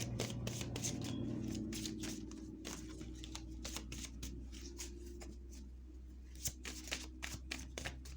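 Oracle card deck of the fortune cookie kind being shuffled by hand, a steady run of close papery riffles and slides with crisp flicks toward the end, alone with no talk.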